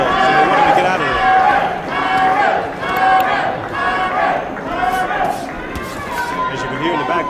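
A boxing crowd at a Myron Taylor fight against Curtis Strong hollers and yells in loud, surging waves, with voices piling over one another and rising and falling throughout.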